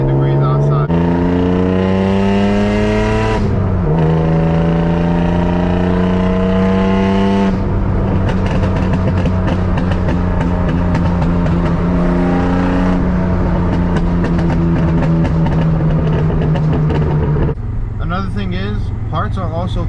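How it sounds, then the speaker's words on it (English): A 1991 BMW E30 with an M50 engine drives past the microphone, its steady engine drone rising through the gears with a shift break, while someone talks over the sound close up. "the M50 does sound different than the stock E30 motors"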